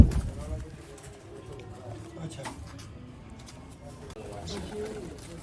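Sialkoti pigeons coo with low, throaty calls at a breeder's loft, soft and intermittent against a quiet background while someone talks over them.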